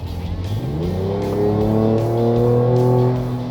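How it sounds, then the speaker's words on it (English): A 2022 Ford Ranger Raptor V6 in Baja mode revs its exhaust, a loud, raucous rising note that holds steady at high revs before easing off, heard alone up close. "This is just the exhaust, not the drivetrain."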